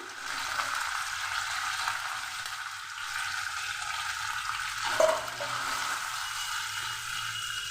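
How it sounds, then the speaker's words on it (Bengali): Chopped onions with a bay leaf fry in mustard oil, giving a steady close sizzle with a brief louder crackle midway and no voices. "পেঁয়াজ লাল করে ভাজা হয়ে গেছে"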